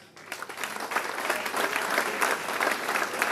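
An audience at a student technology conference breaks into applause, the clapping starting a moment in and swelling to a full, sustained round from a large hall crowd.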